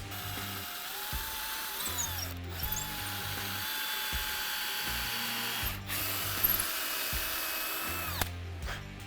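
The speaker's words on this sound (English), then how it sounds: "So next step is to drill the pilot holes for those screws." A power drill whirs in steady bursts drilling pilot holes for screws, revving up and stopping several times, close by, with brief pauses between holes.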